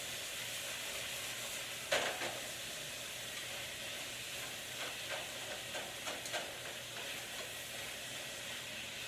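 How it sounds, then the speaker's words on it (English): Vegetables searing hard in hot olive oil for roasted tomato basil soup, giving a quiet, steady sizzle with a few brief clinks and stirring knocks, no talking. "We're letting them sear nice and hard in that olive oil"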